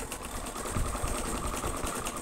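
A sewing machine stitches the collar of a notched-collar shirt, its needle running in a fast, steady, close whirring rhythm throughout with no talking.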